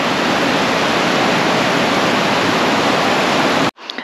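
Drinking spring water pouring out of rocks in Estonia, a loud, dense, unbroken splashing rush close by, cutting off sharply near the end.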